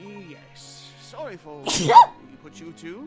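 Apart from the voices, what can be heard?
sneeze from a video game character, Layton vs Wright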